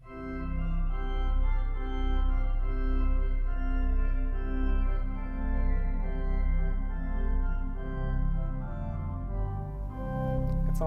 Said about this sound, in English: With the 8 foot stop diapason.